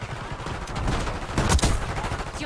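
Sniper rifle gunfire in the video game Black Ops 6, a dense burst of loud shots and game combat noise with one stronger crack standing out near the middle.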